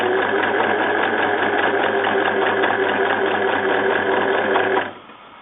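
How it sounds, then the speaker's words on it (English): A sewing machine stitches a zip into a cushion, running loud and steady in one continuous burst before stopping abruptly near the end. "lower the needle, make sure your stitch is lined up, and continue sewing down"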